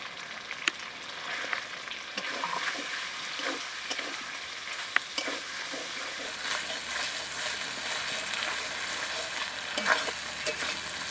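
Chicken meat fries in a pan after ginger, black pepper and cumin paste are added, producing a soft continuous sizzle with periodic stirring and scraping, fairly quiet and without talk.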